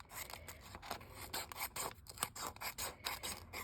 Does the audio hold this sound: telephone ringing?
no